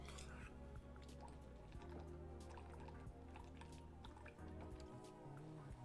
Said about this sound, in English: I'm gonna take a gulp of water